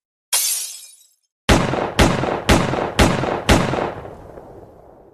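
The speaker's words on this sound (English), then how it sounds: "2 almost simultaneous gunshots rang out" A sharp crack followed by a rapid series of four loud gunshots, evenly spaced, each with a ringing decay, close and with no voices.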